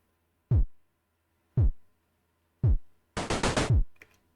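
Pico-8 video game intro music opens with three spaced, punchy chiptune kick drum thumps, then a quick rapid burst of bass and drum hits with a bright noisy layer over it, fairly quiet with no talk.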